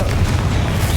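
Confringo blasting spell going off in the video game Hogwarts Legacy: a loud, sustained low boom with rumbling explosive energy filling the whole short moment.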